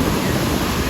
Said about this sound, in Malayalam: നല്ല തിര